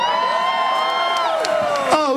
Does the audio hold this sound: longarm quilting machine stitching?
no